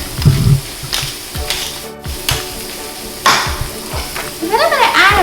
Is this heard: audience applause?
no